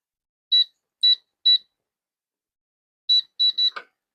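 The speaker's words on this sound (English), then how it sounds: "I can just unlock it with the keypad using the default code. So I'm just going to type that in." Keypad beeps sound as a code is entered on an ADIMO safe box, crisp, loud electronic tones: three evenly spaced presses, a pause, then three quicker presses and a short final chirp, in an otherwise silent room.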